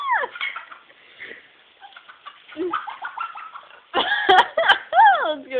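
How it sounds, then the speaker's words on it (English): A flock of chickens gathers outdoors, calling and clucking in scattered bursts that grow louder and busier toward the end, with sharp overlapping squawks close by. "Look how many chickens came."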